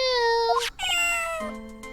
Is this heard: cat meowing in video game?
yes